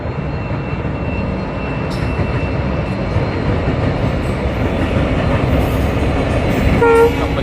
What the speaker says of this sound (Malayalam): പാമ്പകാലത്തിൻ്റെ പുതിയ പാലത്തിലൂടെ ട്രെയിൻ ഇതാ കടന്നു വരുന്നു